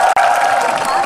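An audience applauding and cheering at a 2006 entertainment show for a military unit, a dense, loud wash of clapping from a large crowd that carries on without pause.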